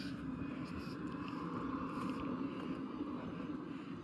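Engine of a small parked propeller airplane running at idle, a steady droning hum heard from a distance during an outdoor walk, constant and faint.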